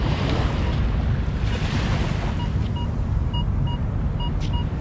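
Ocean waves wash steadily onto a trash-strewn Oakland beach at low tide, a constant close surf hiss mixed with wind rumble on the microphone and faint high tones in the background.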